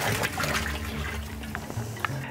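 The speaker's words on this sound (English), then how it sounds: "First, I'm going to add in my cow dung." Cow dung being tipped into a drum of water gives a steady sloshing, gurgling rush that runs for a couple of seconds, close and fairly loud, with no speech.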